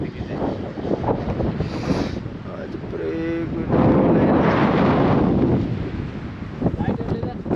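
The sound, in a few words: wind blowing on a mountain ridge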